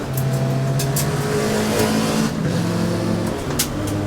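A small hatchback race car on the Sepang Circuit after dark, its engine droning loudly and continuously with shifting pitch as the car laps, with other cars' engines blending in nearby.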